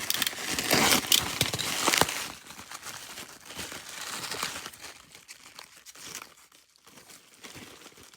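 A package of Magic: The Gathering cards being opened, loud crinkling and tearing of plastic wrap in bursts at first, then softer intermittent rustling and crumpling close by, with no talking.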